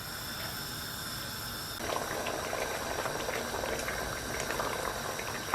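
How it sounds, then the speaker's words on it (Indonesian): Rendang sauce with tofu and potato bubbling steadily in a pan, a continuous dense simmer that grows louder and more active partway through, close and with no talking. "kuahnya ini dimasak terus sampai nanti mengental, kadar airnya itu hilang dan nanti akan keluar minyak-minyak ya"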